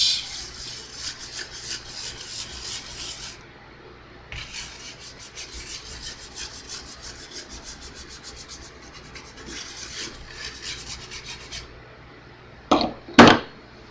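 A cloth rubs back and forth over the body of a Fender Squier guitar in long scrubbing strokes with brief pauses, under a low fan hum. A couple of sharp knocks come at the end.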